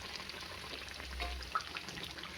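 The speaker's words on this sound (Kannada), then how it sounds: "ಈ ರೀತಿ ಎಣ್ಣೆ ಒಳಗೆ ಹಾಕಿ ನೀಟಾಗಿ ಫ್ರೈ ಮಾಡ್ಕೊಂಬಿಡೋಣ" Potato smileys fry in hot oil in a home kitchen: a steady, soft, close sizzle with scattered faint pops, and no voices.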